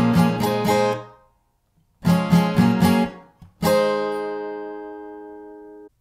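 Guitar chords for a song are strummed in three clear groups: quick repeated strums, a pause, another quick burst, then a final chord left ringing out and fading, played alone and up close.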